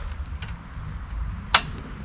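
A portable gas stove's igniter gives one sharp, close click, preceded by a fainter tick, against a quiet low hum.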